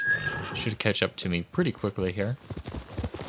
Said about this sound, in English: Let us call our horse.